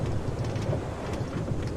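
Rain falls steadily in the video game Minecraft, a dense, even hiss with a low rumbling undertone of thunder, constant and close throughout with no voices.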